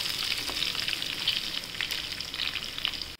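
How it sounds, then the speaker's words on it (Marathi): Chopped potatoes and green chillies fry with cumin for sabudana khichdi in a steady, bright sizzle. Small crackles and pops run through it, close and continuous, with no voices. "हिरवी मिरची टाकूया, आपण दोन मोठे बटाटे बारीक चिरून घेतले, ते टाकूया"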